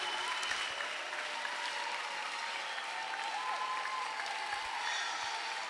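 An audience claps continuously in a dense, steady wash of applause, with no voices over it.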